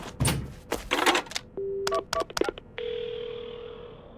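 A telephone in a video game is dialed to call an ambulance: clicks and clunks of the handset, then a string of short button tones, a brief pause and a steady ringing tone that holds to the end.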